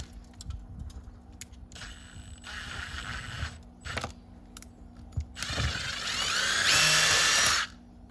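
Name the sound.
power drill with drill bit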